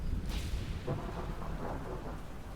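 Thunder rolls and rumbles over steady rain in the fishing horror game DREDGE, a loud crack near the start settling into a low, continuous downpour with no voices.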